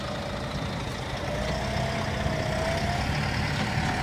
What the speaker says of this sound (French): c'est un tracteur, ça passe partout